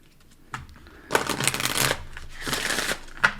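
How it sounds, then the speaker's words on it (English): Tarot cards being shuffled close up in two quick riffling bursts, a crisp papery flutter separated by a brief pause, with a soft tap at the end. "Let's do 2 shuffles on this one."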